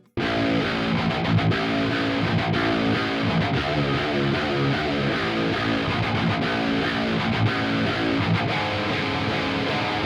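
Metal electric guitars sent through two amps combined, thick distorted riffing with heavy low-end chugs, continuous and loud for the whole stretch, no voices.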